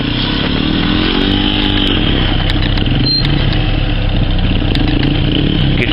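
A Saab 900 Turbo engine runs steadily at close range with a leaking exhaust blowing, a loud continuous rough drone with a buzzing rasp, unbroken for the whole stretch.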